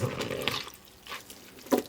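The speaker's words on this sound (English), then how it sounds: "Hear all the water coming out of it now?" Salted cabbage packed into a quart jar for sauerkraut, giving off soft wet squelching and liquid sounds in short close bursts, with no talk over it.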